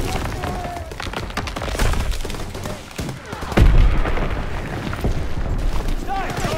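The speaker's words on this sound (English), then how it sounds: "Gunfire! We must be near our guys." Gunfire crackles through a WWII battle scene in the Hurtgen Forest, Germany, November 1944, with dense overlapping shots and a heavier boom near the middle, sustained and fairly loud under voices.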